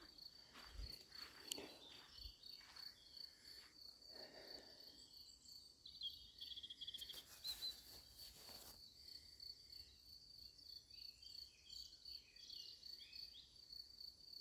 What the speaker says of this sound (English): I think there's a lot of crickets